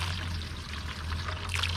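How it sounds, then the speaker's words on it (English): Water pours steadily into a sample bottle that is being rinsed during water sample collection, a continuous close trickle and splash over a low background hum, with no talk. "we fill it up with the water,"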